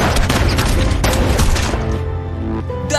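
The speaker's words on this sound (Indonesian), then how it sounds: "Daeho pun saling tembak dengan kolonel dan menyebabkan kolonel tewas di tempat" A film shootout as two men exchange pistol fire, rendered as a loud, dense burst of shots and booms that fills the scene before tapering into a lower rumble and a final sharp blast.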